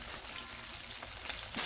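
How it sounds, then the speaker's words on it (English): Steady crackling and sizzling of chicken frying in hot oil over medium heat, close up and continuous, with no voices. "We are frying this one in a medium heat."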